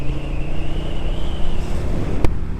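A 2025 Triumph Speed Twin 1200 motorcycle rides onto a motorway, its steady engine drone rising slightly in pitch beneath heavy wind rush, loud and close, with a sharp click near the end.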